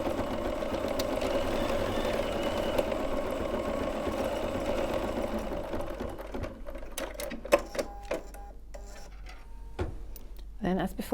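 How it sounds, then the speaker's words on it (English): A sewing machine stitches a tack-down line through fabric with a steady mechanical whir for about six seconds, then stops, leaving scattered soft clicks, taps and handling noises. "So now we can sew our tack down line."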